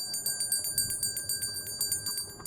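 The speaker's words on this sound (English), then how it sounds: "You may also ring the bell." A bell on a theater stage rings in a rapid, even series of about a dozen bright strikes, fairly clear over faint room noise.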